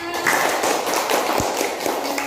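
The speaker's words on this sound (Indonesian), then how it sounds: "tepuk tangannya dulu semuanya" A group of schoolchildren in a classroom claps hands in a dense, steady patter, with a few sharper claps standing out.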